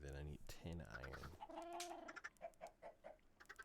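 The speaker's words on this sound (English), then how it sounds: "No, the chickens want to be in here." Chickens clucking in a crafting and survival video game, several short clucks and calls in quick uneven bursts, fairly close, with a voice speaking briefly at the start.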